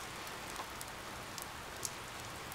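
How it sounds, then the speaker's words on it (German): Steady rain pattering in the Die Gilde 3 game world, a constant soft hiss of falling water with a few sharper drop ticks, faint and even throughout. "Regenfälle sorgen für Überflutung."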